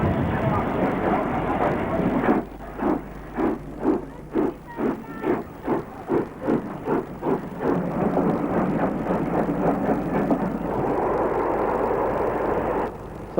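LMS Royal Scot steam locomotive 46124 London Scottish hauls a special train, its exhaust beats starting out loud, separate and rhythmic, then merging into a continuous roar as it passes close by.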